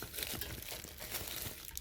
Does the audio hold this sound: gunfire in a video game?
no